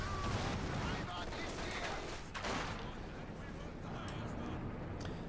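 Rapid machine gun bursts from a two-man MG42 team in a real-time strategy video game match, dense and loud, with overlapping gunfire and battle noise throughout and voices speaking over it.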